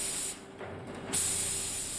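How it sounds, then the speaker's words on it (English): Spray-on expanding foam hisses out of a nozzle onto a taped half-scale model tree, a steady broadband spray with a short dip midway before it resumes, close and fairly loud. "Next comes a spray-on expanding foam, lightweight with a bark-like texture"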